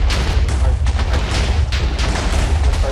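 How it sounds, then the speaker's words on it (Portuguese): A Minecraft TNT explosion produces a loud, continuous low booming roar with crackling debris throughout, dense and close, without any talking. "Explodiu, foi fora, explodiu tudo"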